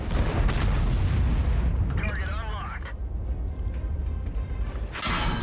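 A tank cannon in World of Tanks fires with a heavy booming blast and a rumbling tail, followed by a metallic ricochet whine. A commentator talks over the explosive game sounds throughout.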